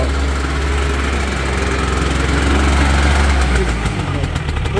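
A Piaggio Ape 50 three-wheeler engine runs roughly and loudly up close, a continuous uneven low drone with a slight shaking pulse throughout.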